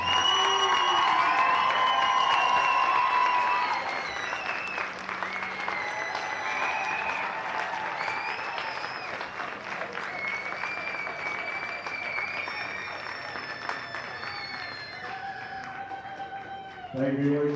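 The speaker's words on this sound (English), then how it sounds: "a big round of applause for this bracket's Division 4 champion" A crowd at a high school Division 4 championship game applauds and cheers for the winning team, sustained clapping filling the venue while an announcer talks over it and whistle-like tones ring out.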